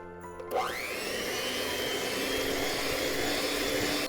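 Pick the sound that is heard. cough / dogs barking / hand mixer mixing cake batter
hand mixer mixing cake batter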